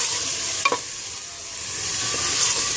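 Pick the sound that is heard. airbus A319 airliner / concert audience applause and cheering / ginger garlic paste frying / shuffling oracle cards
ginger garlic paste frying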